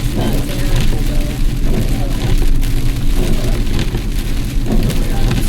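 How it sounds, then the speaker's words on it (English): Heavy rain pouring on a car driving along MD Route 67 North during a lightning storm, a dense continuous wash of drumming over road and engine rumble, with people talking over it. "The rain is not terrible,"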